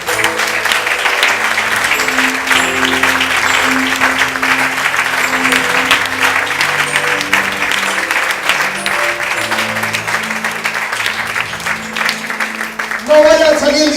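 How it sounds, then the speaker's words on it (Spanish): A church congregation claps loudly and continuously while organ or keyboard chords play underneath, and the applause stays dense until it ends near the close. "Denle al Señor un aplauso fuerte."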